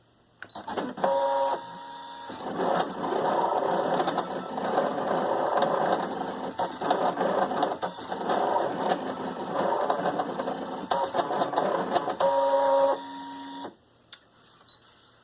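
A Scan and Cut machine cutting a gasket runs with a steady mechanical whir and rapid clattering stepper-motor chatter for about ten seconds. Brief tones and quieter pauses mark the start and end of the cut.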